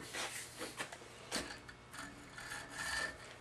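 A hacksaw cuts through a marked piece of wood in quiet, uneven rasping strokes, close by and fairly faint, with no talking.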